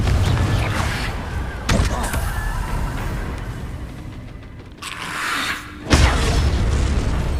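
Spell explosions from Confringo in the Hogwarts Legacy video game go off as a series of sharp booms and thuds over continuous combat noise, with one loud blast near the end and no speech.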